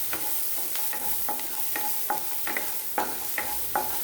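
Steady sizzling of onions frying in hot oil, with a run of light scraping stirs at a regular pace, close up and fairly quiet, with no voices.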